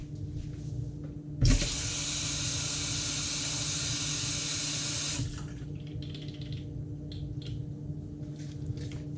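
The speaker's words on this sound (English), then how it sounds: "So to rinse that off with water is a good thing to do." Tap water runs hard into a sink while a printmaking stamp is rinsed off: a loud, steady rush for about four seconds that cuts off abruptly, followed by quiet handling noises.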